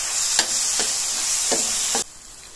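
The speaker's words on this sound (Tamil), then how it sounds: "நல்லா அழுத்தி விட்டு இப்படி வதக்கிக்கோங்க." Mashed banana sautés in a hot pan, giving a loud steady sizzle marked by about four scraping, pressing strokes of a spoon before it cuts off abruptly near the end.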